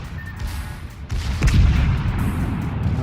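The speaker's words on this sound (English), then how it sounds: "My secondaries are now unloading on that enemy destroyer." Battleship secondary guns firing in World of Warships, a rapid series of deep booming shots with a heavy low rumble that swells midway and rolls on, loud and close.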